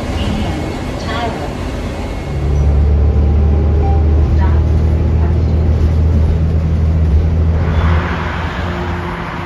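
A Chicago 223 city bus turning around at Tower and Busse gives a loud, close engine drone with a steady low hum that rises after a couple of seconds, a brief hiss, and background road noise.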